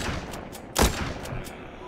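A single sharp gunshot in the video game The Walking Zombie 2 cracks out midway, loud and sudden, over a low background hum with a few faint clicks.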